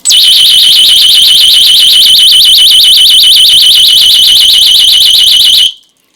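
A personal safety alarm wails loudly and piercingly in a rapid warbling pattern, continuous for several seconds before cutting off abruptly.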